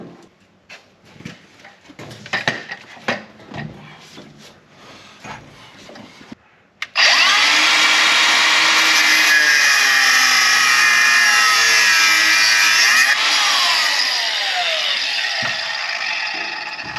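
An angle grinder cuts into a truck trailer hitch with a loud, sustained high-pitched whine and a slowly shifting tone. It follows several seconds of clanking and handling knocks.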